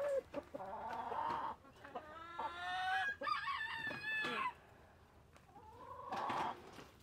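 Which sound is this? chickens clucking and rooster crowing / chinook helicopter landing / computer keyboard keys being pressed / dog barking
chickens clucking and rooster crowing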